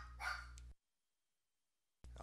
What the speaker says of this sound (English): Oh, my dog apparently is trying to attack the ninjas that are assailing the place right now.